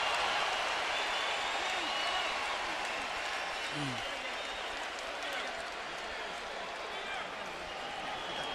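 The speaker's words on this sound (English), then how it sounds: "Many here want to see a fight turn into a brawl, and they cheer Baldomir for his effort." Crowd at the Floyd Mayweather vs Carlos Baldomir boxing match in Las Vegas, 2006, a steady broad roar of cheering and applause throughout, with a commentator talking over it.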